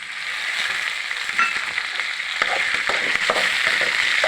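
A tomato drops into a hot frying pan with onion and coconut and starts sizzling, a loud steady hiss that grows busier with crackling spatters and stirring scrapes partway through, and no voices.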